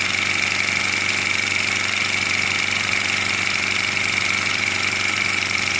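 A 3D printed steam engine fitted with a throttle runs steadily at speed, giving a continuous mechanical whir and hum with a bright, even tone that holds unbroken throughout, close and fairly loud, with no talking.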